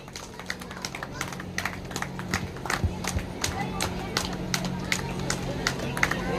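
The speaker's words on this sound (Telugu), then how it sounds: "అందరూ ఒకసారి చప్పట్లతోటి వారిని ఆశీర్వదించాలి" An audience claps to bless a newly installed women's club president at a Vasavi club oath ceremony in Kaiser Nagar: dense, uneven claps over a low steady hum, with voices mixed in.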